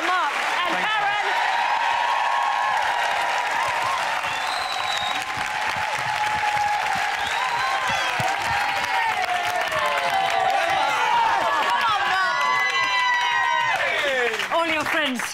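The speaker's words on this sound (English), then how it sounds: "You got a set of applause for the scores." A studio audience at a televised ballroom dance contest applauds and cheers the judges' scores, sustained loud clapping under a presenter's voice and other talk throughout.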